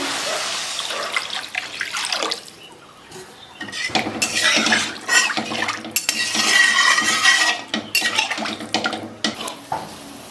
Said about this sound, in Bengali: এখন পরিমাণ মতো জল দিয়ে দিচ্ছি।